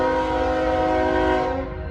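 A freight train working hard up a hill toward a road crossing sounds a loud, sustained horn chord that holds steady for nearly two seconds before tapering off.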